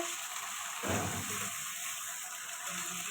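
A ginger, cumin and green chilli paste hits onions already frying in a pan, setting off a sudden louder sizzle that settles into a steady low crackle and hiss.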